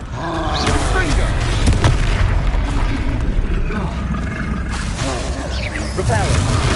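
A Confringo fire spell blast in Hogwarts Legacy, a loud booming explosion in the middle of continuous heavy combat rumble, with a voice calling out spells.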